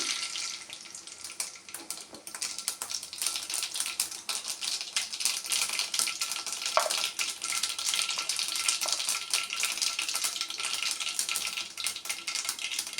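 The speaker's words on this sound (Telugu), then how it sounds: "ఆయిల్ వేసేసాను కదా, ఆవాలు వేసేస్తాను." Mustard seeds crackling in hot oil in a pan, a dense, steady sizzle of rapid pops and spits that runs without pause at moderate loudness, with no voices.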